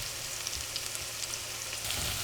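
Mushrooms simmer in oil in a pan over lowered heat, making a soft, even sizzle with small popping crackles, faint and steady, with no talking.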